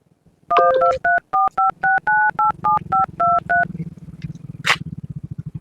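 Telephone keypad tones beep in a quick series of about a dozen evenly spaced dual-tone presses, loud and close, followed by a low ringing buzz.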